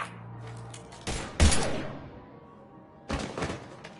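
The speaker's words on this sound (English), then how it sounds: "Now open fire!" Gunfire in a Mass Effect 3 firefight: two bursts of shots, one around the one-second mark and another near the end, each loud and close, with a quieter stretch between them.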